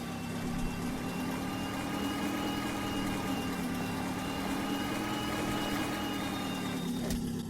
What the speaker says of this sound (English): Build up some revs, switch to reverse,